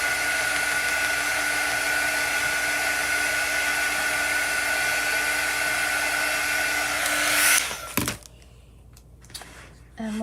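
A hair dryer blows close and steady for about seven seconds to dry chalk paste on a transfer, then cuts off, leaving quiet handling noises.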